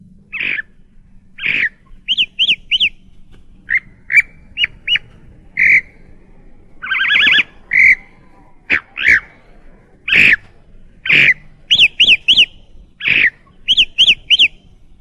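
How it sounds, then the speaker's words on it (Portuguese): A chalk-browed mockingbird sings in an open field, delivering a varied string of clear chirps, repeated whistled notes and short trills in quick, uneven phrases, alone and close. "O sabiá do campo trina em seguida."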